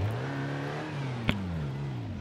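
A car engine revs steadily in BeamNG.drive on an icy road, a sustained droning note with slight pitch wavering as the tires spin, broken by a single sharp click partway through.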